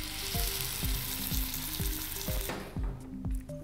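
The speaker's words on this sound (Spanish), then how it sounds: "sellamos la carne, como haríamos en una sartén tradicional, pero lo haremos en el plato crisp." Seasoned beef sizzles loudly on a microwave crisp plate preheated to 200 degrees, a steady dense hiss broken by rhythmic clinks of utensils, fading to quieter crackling toward the end.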